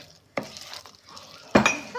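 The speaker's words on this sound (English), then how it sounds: "I'm going to add 1 cup of frozen raspberries. Give that a good mix." Frozen raspberries are stirred into chocolate pudding batter in a bowl, giving two distinct clattering scrapes of a spoon against the bowl amid quiet gaps, with no voices.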